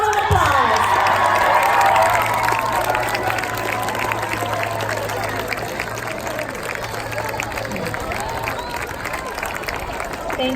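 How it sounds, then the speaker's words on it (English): Crowd applause and cheering fill a school auditorium at a middle school class promotion ceremony, a loud sustained wash of clapping and shouts with voices mixed in, easing slightly after a couple of seconds but continuing throughout. "stand up, cheer, and give your families and teachers and staff a big round of applause"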